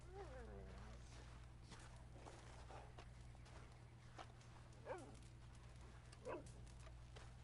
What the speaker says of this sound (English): He's a happy dog.